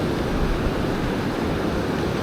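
Strong wind buffeting the microphone beside rushing rapids below a river dam, a loud, continuous roar of air and water with no letup.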